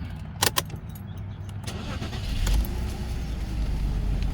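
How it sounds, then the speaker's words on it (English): A BMW E60 5 Series with a manual transmission starts up close by, a brief clink of keys followed by the engine catching and settling into a steady, rising idle rumble. "Alright, let's start her up."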